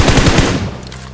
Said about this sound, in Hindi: अब देखो ये हमारे ऊपर देता है फायरिंग